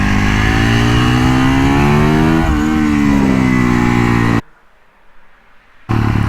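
A supermoto motorcycle engine revs hard and loud up close, pitch climbing and dipping as the throttle works, then cuts to near silence before the engine roars back briefly.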